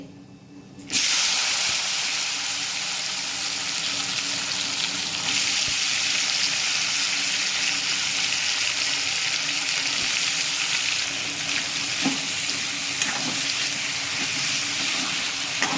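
Potatoes hit hot oil tempered with cumin and masala, a sudden loud sizzle bursting in after a near-silent second, then settling into a constant bright hiss with faint pops.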